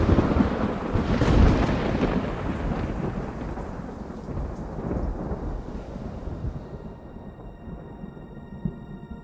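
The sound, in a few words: thunderstorm with thunder and rain, sound effect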